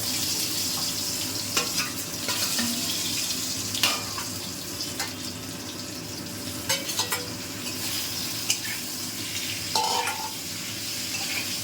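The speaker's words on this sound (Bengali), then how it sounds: "এবার আমি সবজিগুলো ওর সাথে অ্যাড করে দিচ্ছি।" Fried vegetables are tossed into panch phoron tempered in mustard oil for Bengali shukto, a constant close sizzle overlaid with repeated scraping and tapping of a spoon on the pan.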